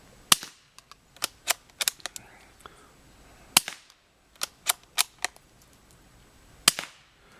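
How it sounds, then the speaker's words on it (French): A .22LR rifle fitted with a sound suppressor fires into a sand berm at an outdoor range, producing a series of sharp, close cracks spaced irregularly, some in quick pairs, with quiet gaps between and no talking. "Je vais tirer 3 coups donc dans la butte de tir."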